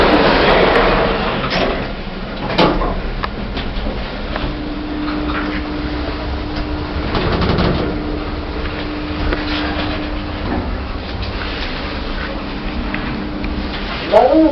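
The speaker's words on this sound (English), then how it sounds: "Doors opening." Otis Gen 2 lift doors at Canary Wharf station open with a low mechanical rumble and a steady hum, with sharper clunks near the start and end, fairly close in an enclosed space.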